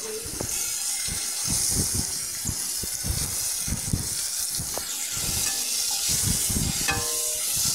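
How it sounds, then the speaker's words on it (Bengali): Tomatoes stirred and fried in spices with chilli powder, giving a steady close sizzle under repeated soft scraping strokes of the spoon, with no talk. "টমেটোগুলো একটু উল্টে পাল্টে দিচ্ছি যাতে ভাজা ভাজা হয়"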